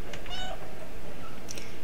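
A cat meows a few times in the Stray video game, clear and close over a steady game background hum, with no talk.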